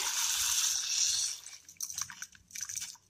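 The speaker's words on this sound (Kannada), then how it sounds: "ಬೇಳೆ ಹಾಕ್ತಾ ಇದ್ದೀನಿ ತೊಗರಿ ಬೇಳೆ" Dry toor dal is poured into a pot of boiling water, a bright, hissing rattle for the first second or so, then quieter bursts of bubbling and splashing at close range.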